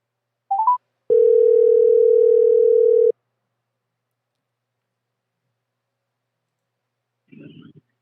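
A telephone call being placed: a few short keypad or connection beeps, then a steady two-second calling tone that stops, followed later by a brief soft click or rustle on the line.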